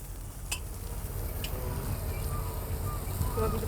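Garlic sizzles in a hot frying pan with a steady, dense crackle throughout, a few light clinks of a utensil or pan near the start.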